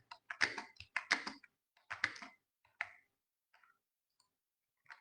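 Close-up typing on a computer keyboard while writing CSS paragraph text, with dense bursts of clicky keystrokes that thin out into a few scattered taps before stopping.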